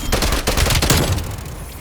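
Rapid bursts of video game gunfire in Call of Duty: Black Ops Cold War crackle loudly and densely, several shots overlapping in quick succession.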